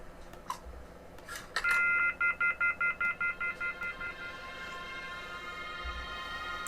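Telephone dialing tones play as a phone receiver is used in the Mystery Case Files: Dire Grove hidden-object game. A quick series of about ten evenly spaced electronic beeps follows a few clicks, over a low steady background hum.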